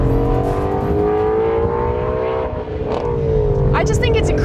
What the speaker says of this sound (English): if this video was just 3 whole minutes of Shelby revving, I'd be pretty damn happy about it